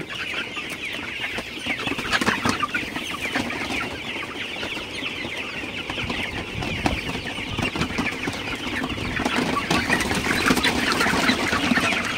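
A flock of Sonali super hybrid chickens clucks continuously on a farm, a dense steady chorus of overlapping clucks and calls with no talking.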